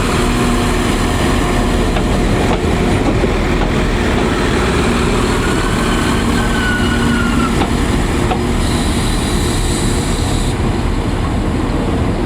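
A train arrives at Great Victoria Street station, a loud continuous rumble of wheels and engine filling the platform, with faint squeals and a brief high whine near the end as it slows.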